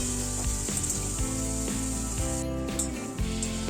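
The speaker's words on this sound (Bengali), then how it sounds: "তো আমি ভালো করে ভেজে নেবো গ্যাসটা মিডিয়াম ফ্লেমে করে দেবো নাহলে পুড়ে যেতে পারে" Okra fries in oil over a medium flame, giving a continuous close hiss and sizzle with small crackles, steady and moderately quiet with no voices.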